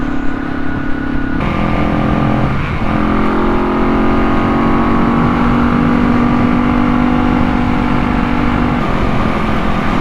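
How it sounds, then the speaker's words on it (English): Kawasaki KLE500 motorcycle running steadily after a carburettor jet fix, a continuous loud engine drone that holds at a steady pitch and dips briefly partway through, with no talking. "really pleased with how the bike's running now."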